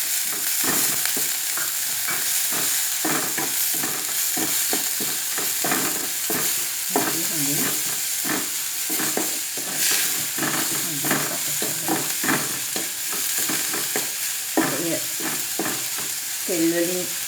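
Green chili, curry leaves and pandan leaves fry in hot oil with a dense, continuous crackling sizzle and repeated stirring scrapes, loud and close, with a faint tonal layer underneath.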